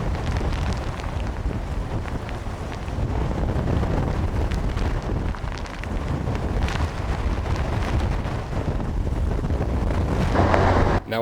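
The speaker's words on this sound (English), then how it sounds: "with the wind starting to pick up rapidly" Hurricane Charley wind roars and buffets the microphone in a loud, continuous rush that builds and swells over the whole stretch, with no voices.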